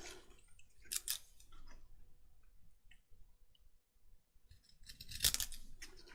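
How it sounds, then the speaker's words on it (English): Decorative-edged craft scissors cutting paper for a junk journal page, short bursts of crisp snipping at the start and again near the end, close and fairly quiet with pauses between. "now I'm going to get the decal edged scissors out and go around it"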